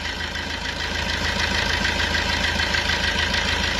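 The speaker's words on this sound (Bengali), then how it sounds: "ইঞ্জিনের সাউন্ড একদম পারফেক্ট আছে।" A Maruti Suzuki Swift Dzire engine idles after an engine flush, a steady, even hum that runs unbroken and close by.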